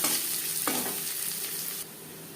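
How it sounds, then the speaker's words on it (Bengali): Chopped onion frying in oil in a wok previously used to fry fish, a dense steady close sizzle with one brief stir scrape, then settling slightly quieter, no talk. "মাছ ভেজে নেওয়া কড়াইতে আবারও তেল দিয়েছি দিয়ে দিলাম একটা বড় সাইজের পেঁয়াজ কুচি"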